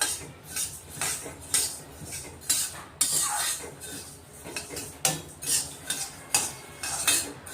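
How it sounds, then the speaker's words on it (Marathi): Coriander seeds dry roasted in a pan with no oil, stirred so they rattle and scrape against the metal in a steady rhythm of short bursts, close and fairly clear, with no talking. "धणे कोरडेच भाजायचे, धण्यामध्ये तेल नाही टाकणार आहेत आपण।"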